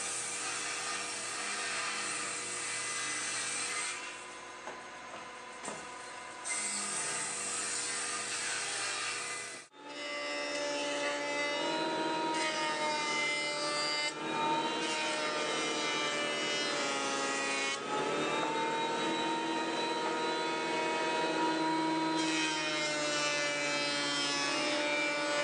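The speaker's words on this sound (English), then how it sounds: "With a few passes over the jointer, this lumber doesn't look so bad anymore." Lumber feeds over a jointer in a workshop, a loud sustained whining cut that drops away briefly around the middle before another long pass resumes, steady and close with no talking.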